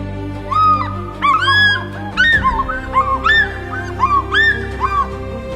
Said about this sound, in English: It is the call of the African fish eagle, Zambia's national emblem and a master of the skies.